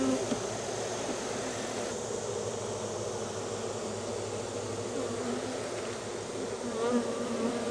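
Honeybees from a queenless colony with no brood drone around an open hive, a dense, steady buzz that stays close and even, heard alone.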